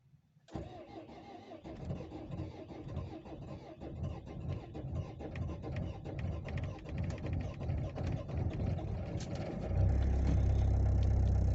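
An Opel Vivaro diesel van, left unstarted for three days, cranks steadily for about nine seconds after its glow plugs are heated, then catches and settles into a loud, rough idle close by.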